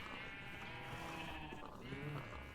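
Sheep on a video game farm bleat faintly against a dense, steady background wash, the short wavering calls surfacing near the end, without talking.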